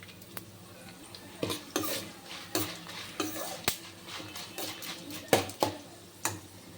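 A spoonful of coriander seeds dry-roasts in a pan, stirred with a utensil. Quiet, irregular scrapes and rattling knocks come in short bursts over a faint background.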